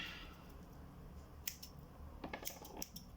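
Black tape being snipped through with scissors during a PSP micro USB battery mod, a few quiet, sharp cuts close by over a faint background hiss.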